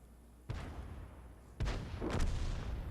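Tank cannon fire in a World War II tank game: two heavy booming shots about a second apart, each trailed by a rumbling decay, with no speech.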